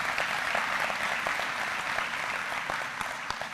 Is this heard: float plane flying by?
no